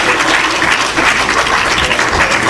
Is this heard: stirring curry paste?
no